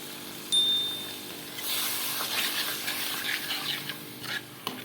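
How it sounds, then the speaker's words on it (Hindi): Water poured into a pan of frying spices with roasted cumin for dhaba-style masoor dal, a sudden splash followed by a steady, close hissing sizzle and bubbling that continues to the end. "और थोड़ा सा इसमें पानी शामिल करेंगे ताकि जो मसाला है वो लगे ना"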